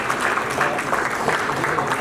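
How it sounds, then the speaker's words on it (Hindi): An audience at an Indian civic organisation's installation ceremony in Mumbai gives steady, enthusiastic applause throughout, with a dense wash of overlapping claps at moderate loudness. "आप सबके लिए एक बार जोरदार ताली हो जानी चाहिए।"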